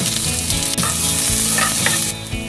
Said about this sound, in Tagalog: Magsusute tayo ng garlic.